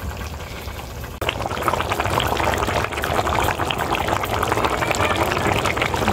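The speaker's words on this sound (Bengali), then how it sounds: "জলগুলো ফুটে গেছে কি সুন্দর" Water comes to a boil in a pot of rohu fish curry with spinach and potato, a dense, continuous bubbling that jumps louder after about a second and stays close and steady.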